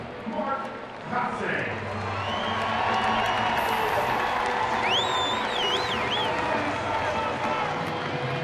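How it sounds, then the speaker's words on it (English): A baseball stadium crowd cheers and applauds steadily for a veteran pinch hitter coming to the plate, with whistles rising over the sustained roar while a commentator talks. "Crowd acknowledging the career that Mark Kotze has put together."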